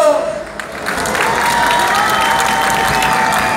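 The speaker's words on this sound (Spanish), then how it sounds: "yo voy a pedir el aplauso del público" A live show audience in Puebla breaks into applause and cheering, the clapping swelling and holding steady and loud, with a voice briefly present at the start.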